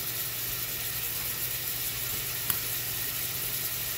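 Crumbled ground meat fries in a pan with a steady, even sizzle close by. One faint click breaks through, and no one speaks.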